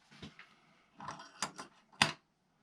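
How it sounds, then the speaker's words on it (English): Small electric starter motor of a Traxxas TRX 3.3 nitro engine's EZ-Start spinning the crank, heard as four short mechanical whirring bursts with gaps between them, close and fairly quiet. "you can hear the motor going around when you twist the crank"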